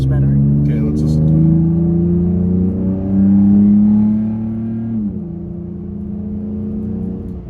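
A Toyota Tacoma pickup with a louder aftermarket dual-tip exhaust pulls from a rolling start up to 55 mph, its engine drone rising steadily in pitch and holding loud and close throughout, with a brief dip near the end.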